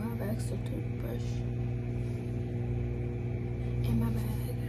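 A steady low electrical hum and whir of a microwave oven running close by drones on throughout, with faint talk underneath.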